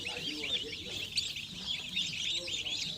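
Young turkey poults peep and chirp continuously, a busy chorus of high, thin calls close at hand with soft lower clucks underneath.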